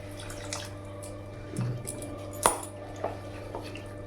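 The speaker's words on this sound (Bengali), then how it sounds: "এবার সব উপকরণগুলো মিশিয়ে নেব। এবার অল্প অল্প জল দেবো।" Semolina chilla batter being stirred with water in a bowl: scattered clinks and light scraping of a utensil against the bowl, with one sharper knock partway through, close and fairly quiet.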